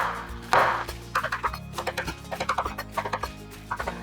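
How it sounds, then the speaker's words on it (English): A knife chops through mushrooms on a cutting board in quick repeated thunks, a run of about a dozen evenly spaced knocks up close, with background music underneath. "I'm gonna go ahead and slice them up"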